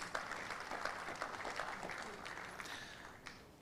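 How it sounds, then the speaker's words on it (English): An audience at a 2024 energy summit gives a round of steady applause, a dense continuous patter of many hands clapping at a distance, fairly faint and fading slightly toward the end. "Can we give all of them a round of applause?"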